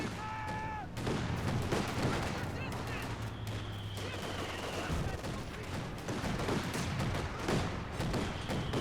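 Mortar impacts and .50 cal machine gun fire in a real-time strategy match, with dense rapid bursts and deep thumping blasts running continuously at moderate loudness behind game sounds and occasional talk.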